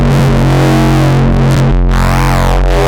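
A sine-wave bass played through a sampler in Ableton with overdrive distortion, a loud, dense, buzzing low tone with a gritty harmonic-rich edge that shifts and sweeps in timbre, sustained for the whole stretch before cutting off.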